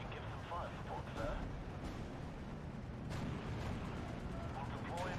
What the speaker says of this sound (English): That was a good arty strike.